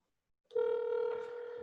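A telephone in a dispatch office starts ringing once, a steady electronic ring tone that begins abruptly and holds clearly for over a second, with no talk over it.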